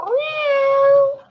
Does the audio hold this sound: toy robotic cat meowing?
yes